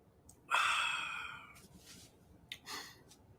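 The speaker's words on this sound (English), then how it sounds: "Pardon my yawning." A person yawns close by in a drawn-out, breathy exhale that fades over about a second. A shorter second breathy yawn or sigh follows, in a quiet room with no speech.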